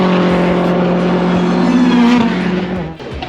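A 340 bhp Seat Ibiza race car engine roars loudly and steadily up close at an Armed Forces Race Challenge meeting, its pitch rising slightly before easing off near the end.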